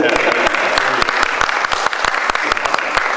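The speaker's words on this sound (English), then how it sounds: "Want to applaud?" A crowd applauds during an interview event at a Megaplex, crisp distinct claps over a dense wash of clapping for a few seconds, loud and close.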